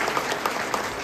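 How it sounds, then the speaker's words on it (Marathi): An audience at a school results celebration in Maharashtra applauds, a brief burst of close, dense clapping with sharp individual claps standing out and no talk. "कौतुक आपण फक्त टाळ्यांनी करू इच्छितो तर टाळ्या या कमी झाल्या नाही पाहिजे."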